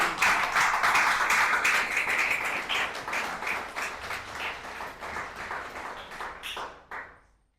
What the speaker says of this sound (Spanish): Un aplauso para nuestro Padre.